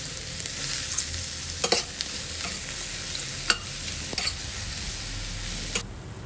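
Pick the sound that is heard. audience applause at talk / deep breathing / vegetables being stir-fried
vegetables being stir-fried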